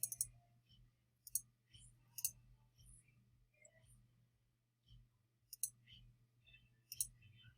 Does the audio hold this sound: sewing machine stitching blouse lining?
no